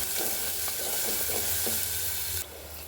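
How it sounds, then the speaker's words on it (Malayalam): Onion, ginger, garlic and green chili sauté in a hot pan for a Kerala fish curry, a loud continuous sizzle broken by a few scraping stirs, dropping to a quieter hiss near the end. "ഇനി നന്നായി വഴറ്റിയെടുക്കണം."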